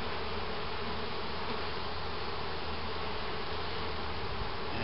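Honey bees on a hive frame make a dense, steady buzzing drone, close and continuous throughout with no voices.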